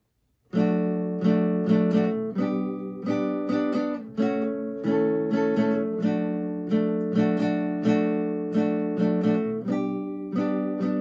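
A beginner song on acoustic guitar, verse running into chorus, played as steady rhythmic chord strums with regular accented beats, close and fairly loud, with no voice.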